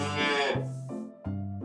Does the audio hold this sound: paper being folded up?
no